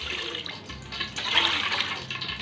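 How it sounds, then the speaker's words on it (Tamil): Water pouring in a steady gush into a pot for beef biryani rice, a close, continuous splashing flow lasting a couple of seconds. "தண்ணி ஊற்றிடுவாங்க."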